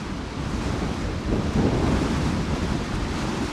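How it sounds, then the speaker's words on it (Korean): Strong wind gusts across an outdoor site on Jeju Island, producing a loud, continuous roaring rush with microphone buffeting that swells midway, with no voices. "거센 바람이 불어닥치는 제주특별자치도"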